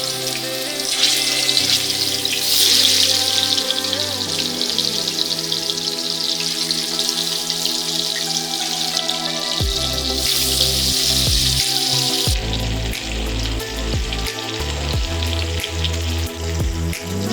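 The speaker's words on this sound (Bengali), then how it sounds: "এবার মাছগুলোকে ভালোভাবে আমার ভেজে নেব।" Pieces of katla fish fry in hot ghee or oil, a steady sizzling hiss running throughout with watery crackle, loud and close, with some shifts in tone partway through.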